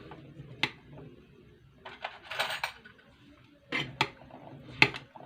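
Potato chaat with green coriander and mint is stirred in a bowl: soft scraping and scattered metallic clinks of a spoon against the dish, quiet and close, with no talk.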